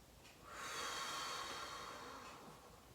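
Slow, deep breathing during a guided stretching session: one long breath drawn in and let out, close to the microphone, a steady airy rush lasting a couple of seconds with no talking.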